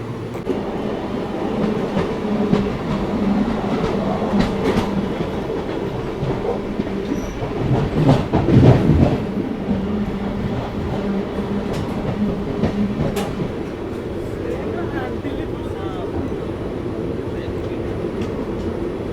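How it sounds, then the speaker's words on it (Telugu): Kaveri Express train pulling into Bangalore Cantonment station, a loud steady rumble of rolling wheels and carriages with clicking rail joints, someone speaking over it. "సో మన బండి అయితే ఇప్పుడు బెంగళూరు కంటోన్మెంట్ స్టేషన్కి అయితే వచ్చిందండి"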